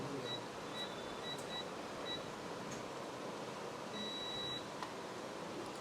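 Multimeter continuity buzzer beeping while probing a phone circuit board, an Oppo A57 with a lighting fault: thin, high chirps recur in short bursts, with one longer tone near the end, faint over a steady hiss.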